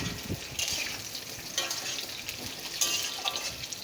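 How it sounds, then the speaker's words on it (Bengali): Potato and pumpkin frying in a pan for a traditional Bengali chapor ghonto, a bright continuous sizzle with stirring scrapes and bursts, close and fairly loud, no talking. "আলু কুমড়োটা একটু ভালো করে ভেজে নেব।"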